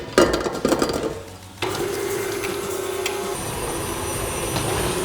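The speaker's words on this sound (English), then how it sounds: "now with the mixer going, we're going to add the eggs one at a time" Stand mixer creaming xylitol with softened butter, a loud steady motor whir with rattling at the start, a short pause, then a continuous close mechanical drone.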